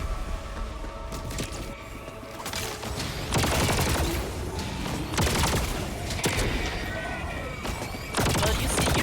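Artillery strike in a video game, a run of heavy booming explosions and crackling bursts hitting in uneven clusters, loud and near, while voices talk over the blasts.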